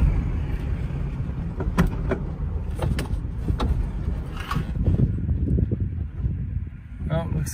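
A 1970 Volkswagen Beetle pulls out onto the open road, its engine droning steadily close by with a few sharp clicks and knocks, while a person talks over it.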